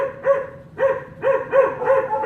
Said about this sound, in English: that's why we're getting lots of barking